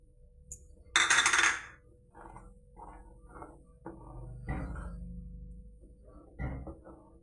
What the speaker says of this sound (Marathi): त्यातच आपण हे काजू बदामचे तुकडे घालूया